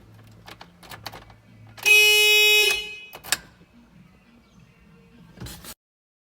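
A Mitsubishi Montero car horn sounds once in a loud, steady blast lasting under a second, amid quiet clicking and handling noises from wiring work nearby.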